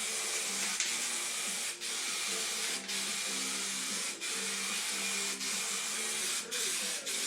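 An aerosol spray paint can hisses a continuous, close spray onto the body panel of a Henry J Gasser project car, with a few brief pauses and a faint rhythmic mechanical tick underneath.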